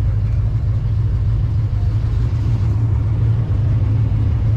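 Supercharged car engine at an autocross event, a steady loud low rumble running continuously without a break.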